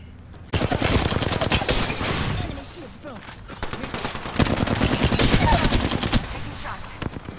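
Gunfire fills an Apex Legends match: loud, sustained automatic bursts crackle close up for several seconds, ease briefly, then swell into another long volley.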